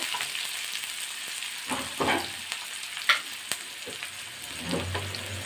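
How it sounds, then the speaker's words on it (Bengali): Chopped onions are stirred into hot oil in a pan. There is a close, steady sizzle with scattered scrapes and clinks from the spoon, and no talking. "কুচিয়ে রাখা পেঁয়াজ তেলের মধ্যে দিয়ে দিলাম।"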